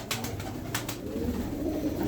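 Arka Tepe pigeons, a crested Turkish breed kept in a loft for sale, coo softly and steadily with no talk, over a low murmur of the flock and brief bright rustles near the start.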